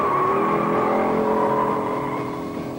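A 1971 Dodge Challenger with a 383 engine accelerates hard on a test track, a loud, steady engine roar climbing in pitch that eases off slightly toward the end.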